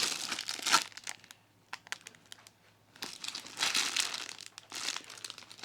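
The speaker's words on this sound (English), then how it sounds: "Plastic sheet." Plastic sheet from a hunting pack crinkling and rustling in bursts of handling, with quieter gaps in between, close by and with no talk.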